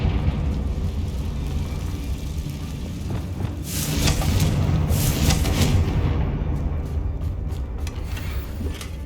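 Heavy rumbling blasts from a Confringo fire spell in Hogwarts Legacy roll on for several seconds, loud and close, with a bright crackling burst in the middle before fading into a low roar.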